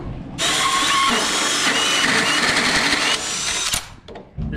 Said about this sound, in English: last hole to drill on this side, then we put the guide in